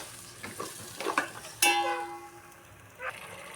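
Egg biryani masala with yogurt, chili powder, coriander and lemon juice stirred in a hot oiled pan: a few soft scrapes, then a sudden sharp sizzle that fades, and a brief stir near the end; close and fairly quiet, no talking.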